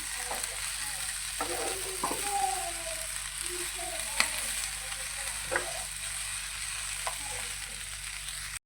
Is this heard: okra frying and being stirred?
yes